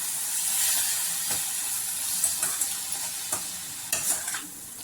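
Scraping and stirring of pumpkin halwa in a pan with a soft sizzle underneath, occasional louder clinks of a spoon against the metal, no voices.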